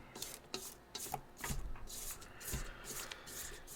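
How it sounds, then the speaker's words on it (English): A spatula scrapes down carrot cake batter around a mixing bowl, with soft, close rubbing strokes in an uneven rhythm of repeated scrapes. "I'm going to give this a good scrape down again."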